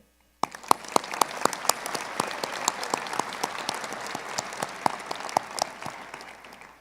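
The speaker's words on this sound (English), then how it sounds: "please join me in giving a round of applause" Audience clapping at a university graduate commencement ceremony, starting abruptly after a brief silence, with a few loud close individual claps standing out over a steady spread of applause from a large crowd.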